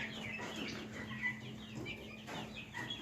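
Several chickens and chicks cluck and chatter nearby in a steady, busy flock inside a newly built coop, with soft bird calls overlapping throughout and a faint low hum underneath.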